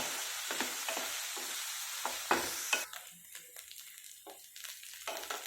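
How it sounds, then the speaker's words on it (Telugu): Brinjal pieces fry in a pan with a loud sizzling hiss and repeated scraping stirs, the sizzle dying down to quieter crackles toward the end. "ఇవి వంకాయ ముక్కలు కూడా బాగా వేగాలి"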